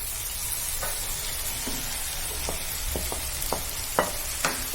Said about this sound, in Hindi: आए हम उसमें भिंडी मिला देते हैं